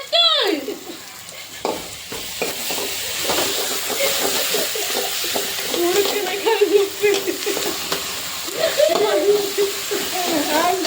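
Sautéing in a pan for potato masala, with a spatula stirring through the food over a continuous hiss and sizzle. A voice speaks over the cooking noise at the start, and other voices come and go partway through.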